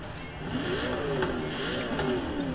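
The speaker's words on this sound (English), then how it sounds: "You can hear the squeak of the turbocharger." A Ford F-150 Raptor engine in the racing video game Forza 3 hums steadily while a thin, rising whine squeaks over it, its turbocharger spooling, for a couple of seconds.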